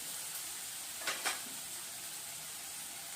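Water with cashews and almonds simmers in a pan, giving a steady soft hiss with two brief stirring scrapes near the middle and no voices.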